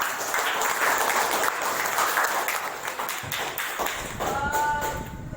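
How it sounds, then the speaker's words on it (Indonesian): Applause from a group at a school positive-culture activity: steady, dense clapping that fills the space for several seconds and then thins out near the end, with a few stray taps and no speech over it. "tepuk tangan untuk kita semua yang sudah memakai"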